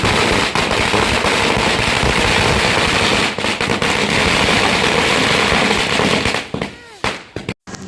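A long, rapid string of firecrackers crackles loudly and continuously at a village temple chariot festival, ending in a few separate sharp bangs as the bursts die away.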